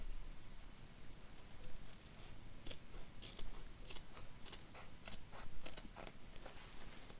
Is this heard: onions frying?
no